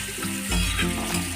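Boiled eggs fry in a pan until golden brown for a dhaba-style egg curry, a brief close sizzle with a soft stirring scrape midway, no voices.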